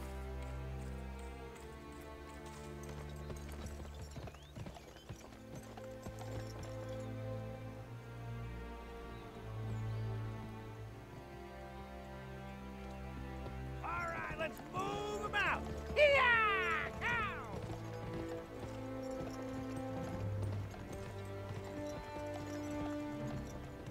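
Horse hooves clip-clop in the Western video game Gun, a steady gait running under continuous orchestral game music, with voices talking over it.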